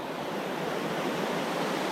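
A small waterfall on a little creek in the Smoky Mountains spills into a pool, a steady close rush of splashing water without breaks or voices.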